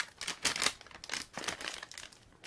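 Crinkling of a plastic bag of Sour Patch watermelon sweets, with quick, close rustles and crackles in a few uneven bursts, fairly soft, with no talking.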